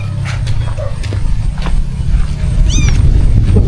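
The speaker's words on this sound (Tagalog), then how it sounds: "May kuting oh." A kitten gives a few thin, high mews over loud rumbling background noise and outdoor bustle.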